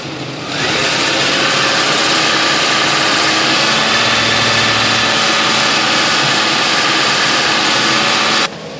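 A 3.1/3.4 liter car engine runs steadily during a coolant system bleed, a loud continuous drone that holds for about eight seconds before cutting off near the end, with no talking.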